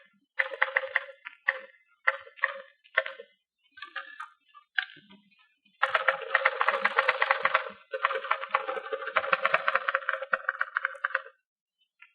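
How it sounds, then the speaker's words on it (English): Two typists typing letters, one very slow and the other three times as fast, from a 1941 radio broadcast: sparse, halting bursts of keystrokes first, then dense rapid clatter, close and clear without talk. "You've just heard the difference between two girl typists. One very slow, the other 3 times as fast."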